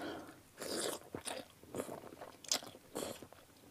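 Crispy pork rinds being eaten, several loud close crunchy bites spaced about half a second apart with chewing between them, against a quiet background.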